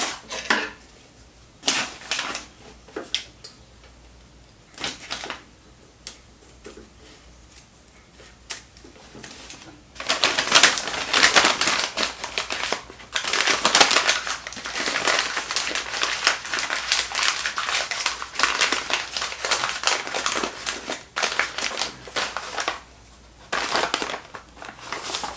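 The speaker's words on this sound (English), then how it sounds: "now I'll just cut this off about a 1/4 inch from the stitch line" Tyvek fabric crinkles and rustles as it is cut about a quarter inch from the stitch line of a handmade stuff sack. Scattered snips come first, then a longer burst of crisp, papery crunching.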